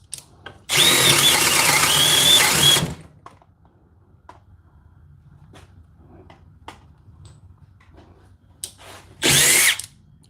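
A compact Milwaukee cordless drill whirs loudly for about two seconds, then quiet with faint clicks, before a second short burst of drilling near the end.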